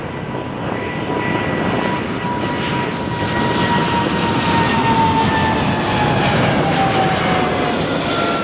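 A jet airliner takes off at Toronto Pearson Airport with a loud, steady engine roar that swells slightly as it climbs, a whining tone sliding gradually downward through the rumble.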